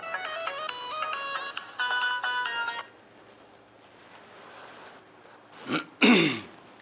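A melodic electronic phone ringtone plays for a few seconds, then stops, followed by a quiet pause and a couple of brief throat-clearing or vocal noises.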